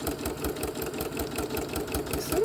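A sewing machine stitches rows on a small tag made from fabric scraps, giving a quiet, steady mechanical hum with regular needle thumps.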